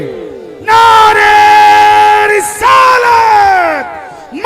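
A large crowd at a religious speech gathering roars back in unison, two long loud collective shouts of the takbir response, the second following a brief break.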